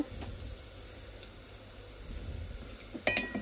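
Food fries in a pan with a quiet, even sizzle and a few utensil clinks near the end.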